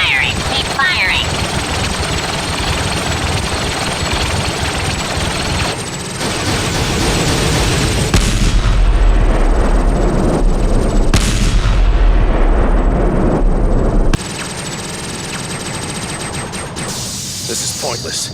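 Blaster fire and explosions in the Second Battle of Naboo, with a dense, continuous barrage of shots and booms alongside shouted voices, loud and close throughout.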